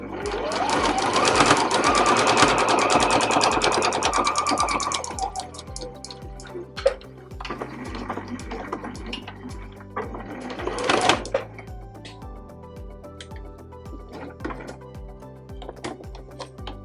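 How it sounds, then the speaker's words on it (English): A home sewing machine back stitches a fabric bread bag, a loud steady whir at first, then shorter runs broken by clicks and brief reverse bursts, close and without talk. "I'm going to do a back stitch again at the start and the stop"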